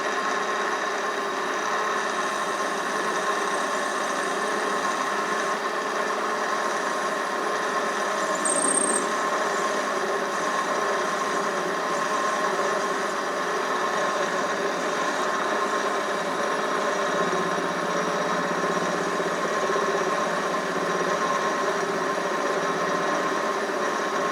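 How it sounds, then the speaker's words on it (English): A lathe machining a part for the suspension of a 1/6 scale Panzer III tank model runs with a steady, sustained whine and mechanical hum throughout, with a brief high squeal partway through. "For the next stage, it's over to the lathe."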